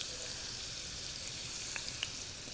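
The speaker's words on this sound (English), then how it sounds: "So I'll fry some of these chopped onions." Chopped red onions frying in a pan for a spinach and vegetable dish, making a soft, steady sizzle close by with a couple of faint clicks and no voices.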